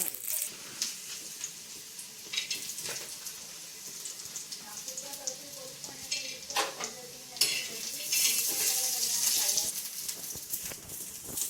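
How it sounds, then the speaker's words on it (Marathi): Peanuts, red chillies, coconut, ginger and garlic roast and sizzle in a pan while being stirred, with scraping clinks of the spoon against the metal and a steady crackle throughout. "शेंगदाणे टाकले आणि लाल मिरची चांगली भाजून घ्यायची"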